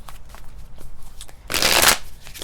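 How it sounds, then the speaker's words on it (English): Tarot cards are shuffled in one quick riffle, a loud, dense burst of snapping card edges after a stretch of quieter handling. "Started shuffling."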